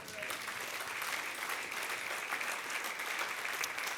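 A church congregation applauds in a dense, continuous wash of clapping, steady and fairly distant-sounding throughout.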